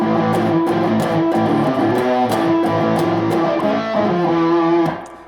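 Electric guitar chords for an A harmonic minor metal breakdown, played as sustained distorted chords that shift in a steady rhythm, loud and close, ringing out at the end.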